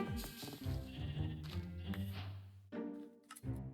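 Sheep in the Minecraft video game bleat in a quick string of nasal, wavering calls near the listener, with a clear break before a final short bleat.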